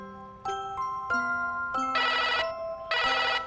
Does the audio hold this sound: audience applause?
no